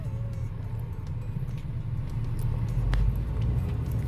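A Dodge Dart drives slowly around a neighborhood for a brake test, its engine and road noise forming a low, steady rumble inside the car that swells slightly, with no voices.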